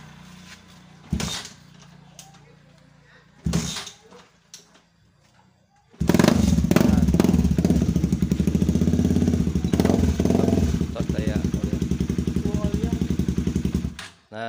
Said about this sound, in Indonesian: sekarang motor ini sudah bisa hidup tanpa dipasangin aki